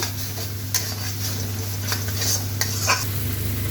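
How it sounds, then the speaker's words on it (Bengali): Spatula stirring spice masala with ginger paste in a pan, scraping strokes over a continuous sizzle and a steady low hum, close and moderately loud. "মশলাটাকে ভালো করে কষিয়ে নেব।"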